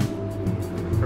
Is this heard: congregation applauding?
no